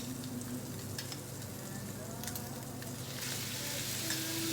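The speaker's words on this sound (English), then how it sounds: "You hear that nice sizzle?" Steak sizzling and frying in a hot pan, a steady broadband crackle that holds throughout and swells slightly near the end, with faint background voices.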